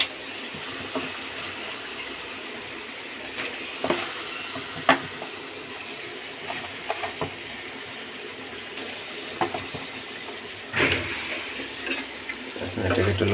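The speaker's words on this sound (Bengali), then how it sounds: "এখন দিয়ে দেবো আস্তে আস্তে মুরগির মাংসগুলো ছেড়ে দেবো।" Chicken meat goes slowly into a sizzling spice mixture in a pan, giving a steady low hiss broken by scattered stirring and scraping knocks, with a louder burst of sizzle near the end.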